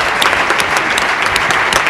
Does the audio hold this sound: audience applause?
yes